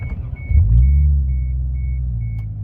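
A car engine idles with a low, steady rumble up close, while a faint electronic beep repeats at regular intervals in the background.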